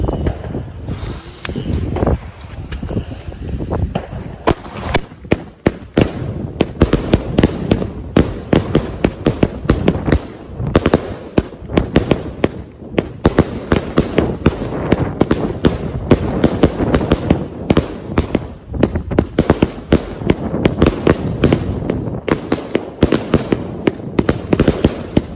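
Mandarin fireworks cakes set off outdoors at New Year's Eve, giving a long, dense barrage of loud crackling bangs and rapid firecracker-like pops that continue almost without pause, with some wind buffeting the microphone.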